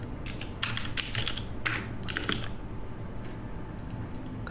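Quick bursts of typing on a computer keyboard, keys clattering in uneven clusters with short pauses, close and clear over a faint steady room hum.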